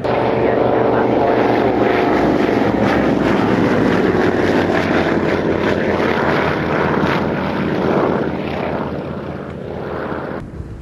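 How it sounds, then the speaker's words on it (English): An Avro Anson Mark 19 propeller aircraft flies past at an airshow, its loud, steady droning engines filling the air, with wind buffeting the microphone before the sound eases toward the end. "Aircraft you see here, the Mark 19."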